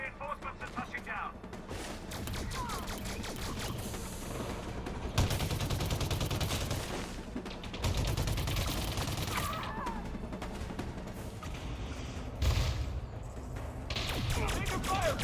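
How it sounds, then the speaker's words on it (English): Gunfire in the video game Elite Dangerous, with repeated bursts of automatic shots and heavier impacts mixed with game noise, continuing steadily throughout at moderate volume. "Taking fire from the rear."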